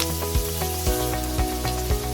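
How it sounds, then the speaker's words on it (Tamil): Onions sautéing in a pan for a vegetable handi, a steady close sizzle with repeated stirring scrapes roughly every half second, no voices. "இது கொஞ்சம் வதக்கிக்கலாம்."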